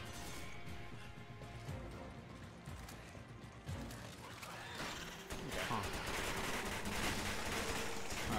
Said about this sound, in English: There's still fucking people shooting at us.